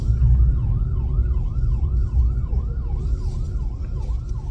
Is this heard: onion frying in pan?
no